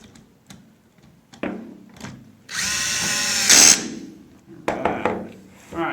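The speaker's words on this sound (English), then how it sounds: "Then we're going to drill in these two screws right here." A power drill drives two screws into a Yale smart lock during installation, a sustained whirring burst of a couple of seconds between quieter handling clicks and taps, close and fairly loud.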